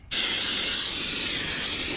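A can of brake cleaner sprays a steady hiss inside the oil pan of a Cummins ISX15 dump truck engine, starting abruptly and holding constant, close and alone.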